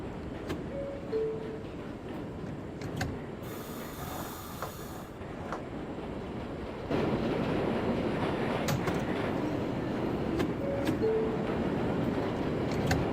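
An R179 subway train on the J line runs in the OpenBVE train simulator game, a steady rolling hum with a brief high whine, then a louder rumbling surge partway through.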